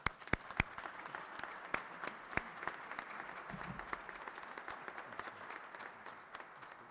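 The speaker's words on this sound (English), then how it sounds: "Let's give him a big round of applause for getting it done." Audience applause at a governor's bill-signing ceremony for a representative, scattered individual claps rising into a moderate, steady round of clapping from a small crowd, slightly distant.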